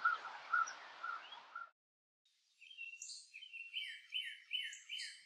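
Sparrows chirp in a rapid, repeated series of bright calls, fairly close and clear, coming after a brief burst of noise and a short silence.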